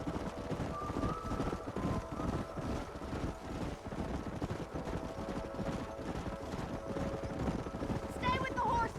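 Horses in Red Dead Redemption, a steady, close clip-clop of hooves with game ambience and a brief whinny-like call near the end.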